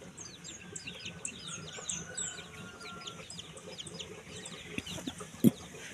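Chickens cluck softly at a distance, mixed with scattered bird chirps over a low, steady outdoor background, with one brief louder knock near the end.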